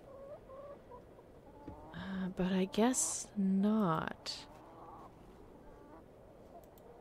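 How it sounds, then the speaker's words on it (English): Hen in a point-and-click adventure game, a few clucking and squawking calls in the middle of the stretch, with a voice speaking briefly before and after. "Is that bird following me? Can I pick up the hen?"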